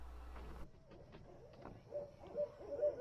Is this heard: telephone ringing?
no